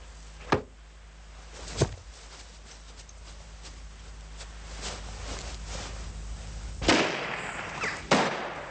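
Gunshots are fired at a hat in a period drama: two sharp, isolated bangs, then two more a few seconds later, set against a quiet outdoor background.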